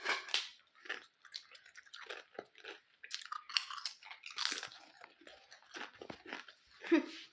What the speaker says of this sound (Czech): mám tu čip, jo, takže nestěžujte se na to, že to tu tak křupe, jestli to slyšíte